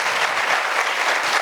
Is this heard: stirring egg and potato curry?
no